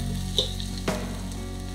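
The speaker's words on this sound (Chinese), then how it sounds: "炒辣椒粉跟糖" Chili powder and sugar stir-fried in a pot for a Korean beef and tofu stew, a steady close sizzle broken by two brief utensil scrapes.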